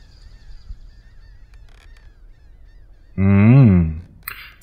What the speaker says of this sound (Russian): Пока, чайки.